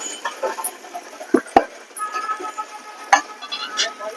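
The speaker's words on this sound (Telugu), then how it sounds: "ఇప్పుడు కలుపుకున్నాం." Fenugreek leaves are stirred as they fry in a pan, giving a steady soft sizzle with scraping and a couple of sharp knocks of the utensil against the pan.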